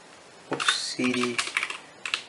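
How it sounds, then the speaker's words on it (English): Several bursts of computer keyboard typing as a command is entered in a terminal app, close and clear, with a few separate clusters of keystrokes and short pauses between them. "now you want to type in cd"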